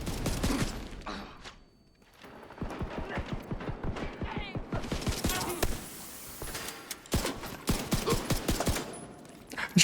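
AK rifle fire in a first-person shooter game, rapid bursts of repeated shots up close, with gaps between bursts and some game noise underneath.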